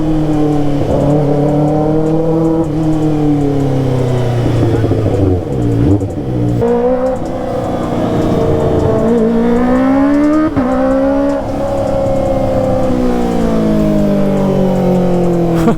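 Kawasaki ZX motorcycle engine revving hard again and again, loud and close, its pitch sweeping up and down through repeated throttle blips with a brief voice underneath.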